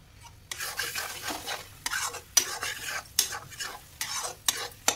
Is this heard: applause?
no